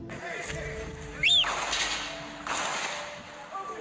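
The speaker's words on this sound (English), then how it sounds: "That was the sound of gunshots echoing through the streets during the siege of Sarajevo" Two sharp gunshot cracks ring out a second or so apart in the streets of Sarajevo during the siege, each trailing off in a hollow echo against a faint background hum.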